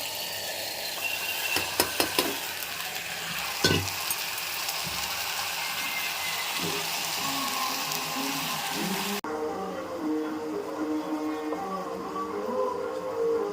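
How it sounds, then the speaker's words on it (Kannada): Beans tipped into a hot pan, with a few clattering knocks followed by a steady close sizzle of frying and occasional stirring scrapes throughout. "ಈಗ ಬೀನ್ಸ್ ಹಾಕ್ತಾಯಿದ್ದೀನಿ."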